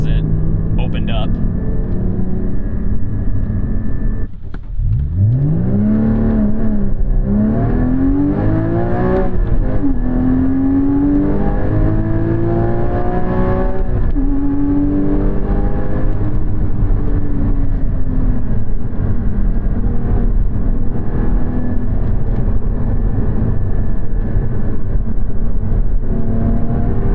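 A Porsche 981 Cayman GT4 flat-six revs with its exhaust valve open, climbing in a sweeping rise, dipping and building again through several pulls, loud and close from inside the cabin, then settling into a steady drone.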